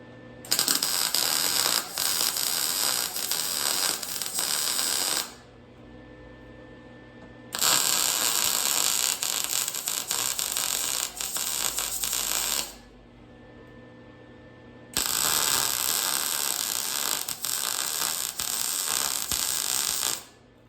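Short welding runs on the running boards of an FJ-40 Land Cruiser: three loud, steady crackling bursts of about five seconds each, separated by brief quiet pauses, with no talking.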